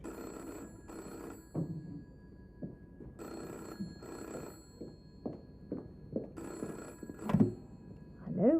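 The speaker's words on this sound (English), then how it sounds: "Someone on the phone for Jack Sugden." An old telephone bell rings in a village pub in a 1973 drama, sounding in short paired bursts separated by pauses, with faint movement and thumps in between.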